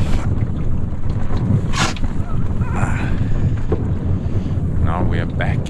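Strong wind roars steadily over a sailing canoe's sail and the microphone while the boat works upwind in rough water, with faint water sounds underneath.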